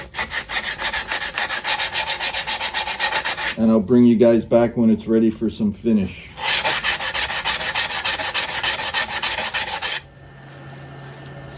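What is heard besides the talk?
hand sanding wood on lathe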